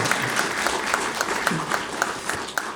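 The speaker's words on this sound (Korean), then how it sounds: "그럼 박수 한번 주시죠." Audience applause fills a Buddhist academic conference hall marking a monthly Buddhist magazine's 100th anniversary, steady dense clapping throughout with no talk over it.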